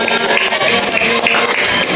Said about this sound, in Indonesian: Oke, tepuk tangannya buat kelompok 5.